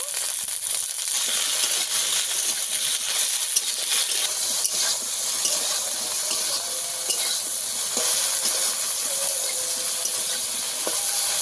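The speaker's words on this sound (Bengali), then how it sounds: "ঢেঁড়সটাকে ভালো করে ভেজে নেব। একদম ঢেঁড়সটাকে ভেজে লাল লাল করে নেব।" Okra fries loudly in a hot pan, a dense, continuous, close sizzling hiss with occasional faint stirring scrapes and no voices.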